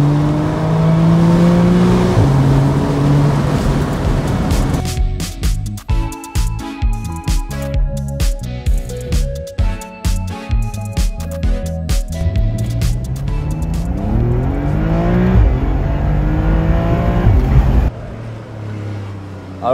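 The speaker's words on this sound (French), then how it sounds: "Alors l'échappement sport, il fait tout." Porsche 911 (992) Carrera S Cabriolet flat-six with sport exhaust revs loudly, with a string of sharp rapid throttle blips in the middle before settling back to a steady drone, while a person talks over the start.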